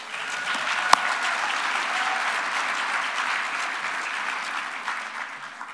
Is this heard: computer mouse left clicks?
no